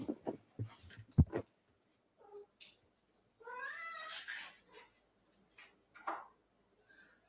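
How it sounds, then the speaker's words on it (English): A hungry cat meows repeatedly up close while waiting to be fed, with several drawn-out, wavering cries and shorter mews separated by brief pauses, alongside small handling noises. "Let me feed this starving cat."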